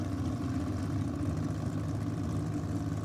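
Rear-engine dragster at a drag strip track championship idling, a steady low engine rumble holding level with no revving, moderately distant and alone without talk.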